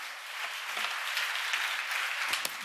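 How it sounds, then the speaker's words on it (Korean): A church congregation breaks into a burst of applause during a sermon, with dense, steady clapping from many hands that fills the room for a few seconds. "우리 주님께 영광의 박수 올려드리겠습니다"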